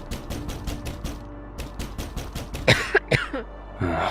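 A rapid series of dry clattering bursts, then a few harsh, close coughs near the end.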